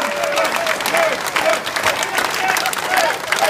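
Audience applause fills the hall after a Polish film-music orchestra concert in Wadowice, a dense, steady clapping that holds for several seconds with faint crowd noise underneath.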